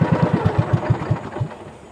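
A boat engine near Subic Beach chugs in a quick, loud, close putter that slows and fades over the second half, leaving a quieter rumble.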